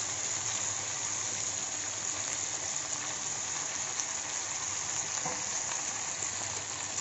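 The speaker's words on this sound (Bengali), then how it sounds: "তারপর আমি একটু মাছগুলোকে এই তেলের মধ্যে একটু নাড়াচাড়া করব।" Climbing perch fish fry in hot oil in a kadai with marinade spices added, a dense, steady hissing sizzle that stays loud and even throughout at close range, with no voices.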